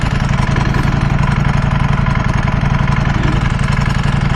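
A Ducati V4 SP2 motorcycle engine idles steadily and close by, its dense, even low throb pulsing without a break and with no talking over it.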